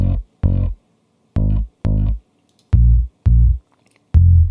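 A heavily EQed, saturated sub bass layered with a bass line plays as a series of seven loud, punchy notes with short gaps between them, dry and upfront with a gritty, distorted edge.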